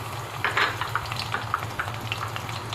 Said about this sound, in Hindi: तो अब इसको हम 1 मिनट तक के लिए ज़रूर फ्राई करेंगे।